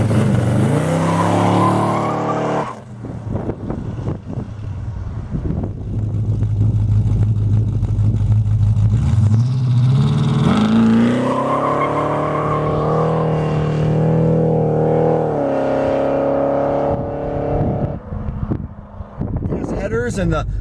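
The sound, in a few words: Plymouth with 318 engine and PTC 9.5 converter accelerating hard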